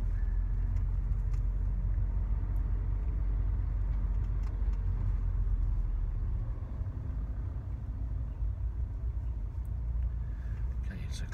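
A manual car creeps along slowly in first gear during a driving lesson, its engine a steady low rumble heard from inside the cabin throughout.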